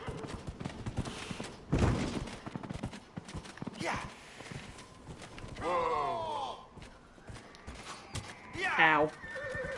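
A horse in the video game Dragon Age: Inquisition neighs several times, its whinnies rising over hoof clops and a person talking throughout.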